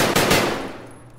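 Rapid gunfire in Escape from Tarkov, two sharp close shots in quick succession followed by a dense, ringing burst that slowly decays, loud and without speech.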